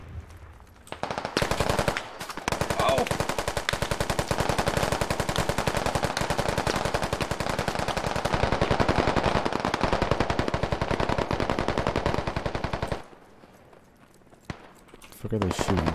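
Rapid automatic gunfire from a first-person shooter game rattles nearly nonstop for about eleven seconds, loud and dense, before cutting to a quieter pause and a fresh burst at the end.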